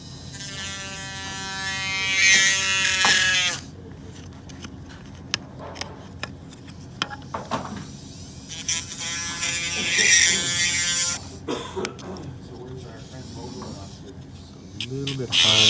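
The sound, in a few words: handpiece with diamond disc cutting through plastic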